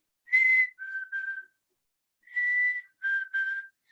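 A person whistles an imitation of a chickadee call, clear pure whistled notes in two groups of three: one higher note followed by two lower ones, repeated after a pause, alone in quiet.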